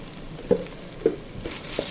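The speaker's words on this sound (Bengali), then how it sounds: "এখন নেড়ে আদা বাটাগুলো ভেজে নেব" Ginger paste, added with garlic paste to fried onions in hot oil for khichuri, sizzles softly in a pan while a spoon knocks and scrapes through it three times at uneven intervals.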